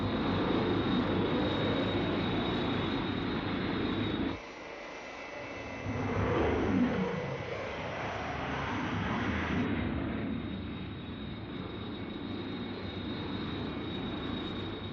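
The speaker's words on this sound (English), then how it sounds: "Have visual contact with Captain Scarlet's jet." A jet aircraft engine from the Captain Scarlet TV series gives a steady, loud roar that dips for a moment, then rises again with a sweeping, passing tone before settling into a continuous drone. No voices can be heard.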